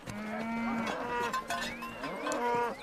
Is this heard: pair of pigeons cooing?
no